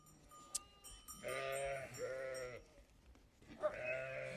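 A goat that was attacked by a wolf bleats repeatedly in wavering, drawn-out cries, close and fairly loud, with quiet background noise between calls.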